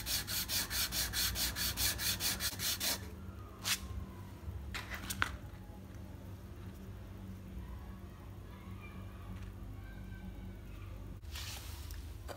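Rapid rhythmic scraping of a cola-can part for a Stirling engine rubbed back and forth on sandpaper, then quieter with a few light knocks and scrapes.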